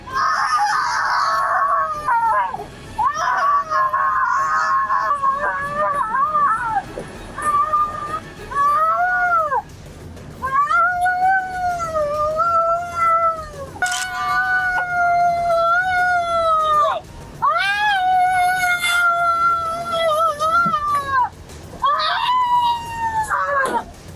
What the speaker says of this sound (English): She continues to yell and scream, even in the police car